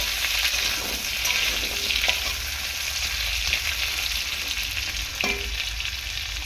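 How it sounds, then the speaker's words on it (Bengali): Finely chopped potatoes fry in hot oil for a summer pumpkin, potato and drumstick dish, a loud continuous close sizzle with faint stirring clicks throughout, no one speaking. "আলুটাকে ভালো করে কুচিয়ে নেবো এরকম মানে তেলের মধ্যে একটু ভেজে নেব"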